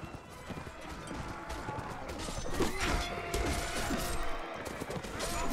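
Dense battlefield din from Mount & Blade: Warband, with cavalry horses galloping through a massed clash of hooves, crashes and weapon impacts, loud and continuous throughout.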